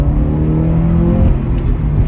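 Porsche 968 with a 237 bhp engine accelerating hard in second gear, a loud, steady engine drone rising in pitch over about two seconds, heard from inside the car without talk.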